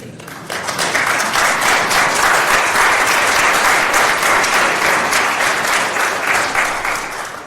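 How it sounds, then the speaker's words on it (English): Sustained applause from a gathered crowd at a memorial service, dense and steady clapping that starts after a brief quiet moment and continues to the end, close and loud. "I would have given you a round of applause for doing that"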